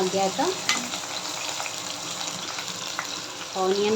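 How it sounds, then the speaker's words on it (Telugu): Onions and green chillies sizzle and fry in a pan as a paneer curry is cooked, a steady close crackle with brief stirring clinks and short bursts of talk at the start and end. "ఆనియన్స్ వేసేసేయాలి. ఆనియన్స్, పచ్చిమిర్చి ఎట్ ఏ టైం వేసుకున్నా పర్లేదు"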